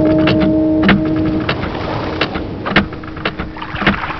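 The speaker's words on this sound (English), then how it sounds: "What you hear are actually bubbles in a toilet." Bubbling water with irregular pops and gurgles, steady and close, a continuous wet burble with occasional louder bursts.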